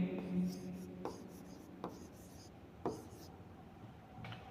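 Marker or chalk writing a word on a board during a chemistry lesson, with a few short scratchy strokes spaced apart, quiet and close, with faint room tone and no clear talk over it.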